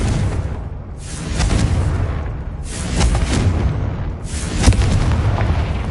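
Confringo fire-blast spells in the video game Hogwarts Legacy, heard as repeated heavy booming explosions with deep rumbling bursts about every one and a half seconds, loud and close, with no talking.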